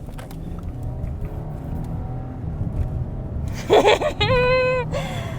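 An Audi A7 accelerating smoothly, a steady low engine and road rumble building under the cabin, with a brief exclamation of voices near the end.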